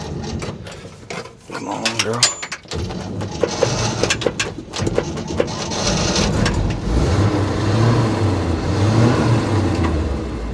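A 1964 Chevy engine on a cold start, struggling to idle without choke and running rough with uneven sputters that swell into a steadier rumble, heard close with a short spoken remark early on.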